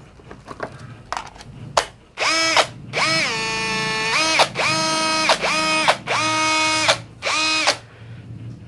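The small brushless motor of a Nagawa NRT Pro DC743 cordless high-pressure jet cleaner whirs in repeated bursts, spinning up and down with a harsh, rough whine, each run lasting around a second, close and loud.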